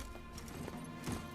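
Horse hooves clip-clopping at a quick gallop in The Witcher 3 video game, a rapid run of dull thuds under steady background noise, close and moderately loud.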